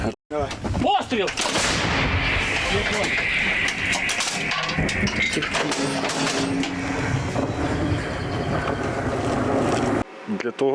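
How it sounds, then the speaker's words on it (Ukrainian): An artillery gun fires at armored vehicles on the Mariinka front in Ukraine: one sharp, loud blast, then a long rumbling roar with rushing wind and voices underneath. "Постріл!"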